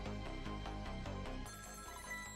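A telephone rings in a crime-solving video game, a repeating electronic ring pulsing steadily and loud over music before the tone changes partway through.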